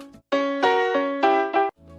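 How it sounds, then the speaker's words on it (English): On the 3 side of the clave, a piano montuno pattern plays as a few crisp, syncopated chord hits in a brief phrase with no voices over it. "But on the 3 side of the clave, the montuno pattern might sound like this."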